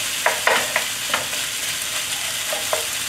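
Already cooked pasta and cucumber stir-fried in a hot pan: a continuous close sizzle broken by several short scraping stir strokes at irregular intervals, with no talking.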